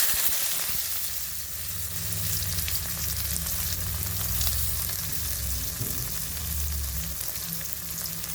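Onion and dried chillies fry in hot oil in a village kitchen, a continuous close sizzle with occasional stirring and no talk.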